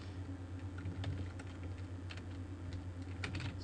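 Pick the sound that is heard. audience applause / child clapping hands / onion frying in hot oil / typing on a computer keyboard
typing on a computer keyboard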